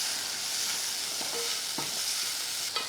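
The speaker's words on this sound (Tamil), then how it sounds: "நல்லா லைட்டாக ஒரு வதக்கு இந்த மாதிரி வதக்கி விட்டுட்டு" Masala with turmeric and asafoetida being sautéed in a pan for rasam gives a soft, steady sizzle, with a few light stirring scrapes and clinks near the end and no voices.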